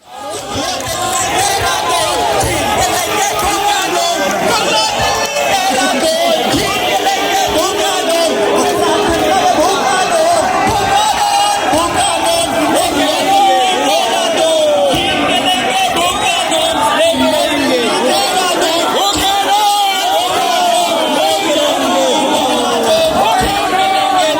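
A large crowd of protesters gathered in Uttarakhand, a dense, steady babble of many voices with chatter and occasional raised shouts, loud and continuous throughout.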